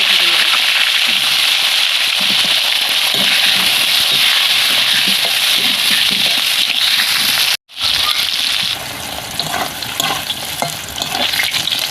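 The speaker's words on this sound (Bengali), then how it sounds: "ওই তেলের মধ্যে আমি পটলটাকে লাল লাল করে ভেজে নেব।" Pointed gourd (potol) pieces frying in hot oil in a pan, a loud continuous sizzle with crackling pops and occasional stirring, a brief break near the end, then more sizzling as cooking continues.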